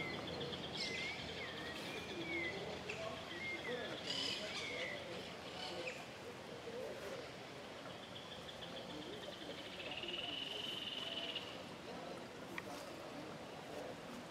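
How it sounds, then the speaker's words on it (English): Birds chirp and warble in short bursts over a steady outdoor hiss at a Jesuit estancia in Córdoba, Argentina, with a few cooing calls and a faint engine hum in the background. "The sound of the birds."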